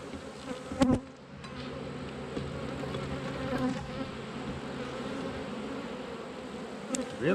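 Honey bees hum steadily around an opened hive during an inspection, a dense close drone with brief louder buzzes as individual bees pass near, no talking.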